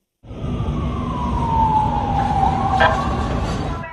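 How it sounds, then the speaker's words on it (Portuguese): A loud police siren sweeps down in pitch over rumbling traffic, steady and close, with a short sharp burst near the end. "as únicas sirenes ouvidas foram as da polícia, que chegou após a explosão"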